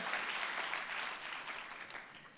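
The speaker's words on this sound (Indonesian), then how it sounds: "Kalau mau tepuk tangan yang paling dahsyat buat Yesus Tuhan kita." A church congregation claps during a sermon, producing a steady wash of applause that eases slightly toward the end.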